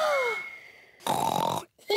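A voice imitates snoring in a children's cartoon, a cartoon pig giving a loud, grunting snort-like snore after a gliding vocal sound, with a short pause and another snort starting at the end.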